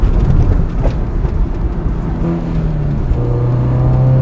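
A car engine fitted with an aftermarket inlet tube and drop-in intake filter runs loud and close, a deep steady drone with the pitch rising as it revs up.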